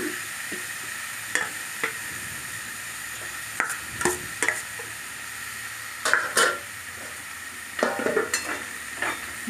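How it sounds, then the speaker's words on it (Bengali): Steamed banana flower being stir-fried in spice paste in a pan: a steady low sizzle with occasional sharp scrapes and clinks of a spatula, close and moderately quiet. "ভাপানো মোচাটা দিয়ে ভালো করে মশলার সঙ্গে কষিয়ে নিচ্ছি।"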